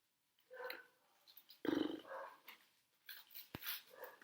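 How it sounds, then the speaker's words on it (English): Village dogs bark and growl outdoors, with a rough snarling burst and then scattered sharper barks at a moderate distance, the sound rising and falling over several seconds. "Fucking village dogs"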